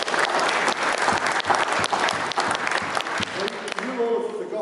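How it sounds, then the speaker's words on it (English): Loud, close applause from an audience at a West Midlands lupus information day thanking regional volunteers, dense rapid clapping that carries on before tapering, with voices murmuring underneath toward the end. "Let's give them a round of"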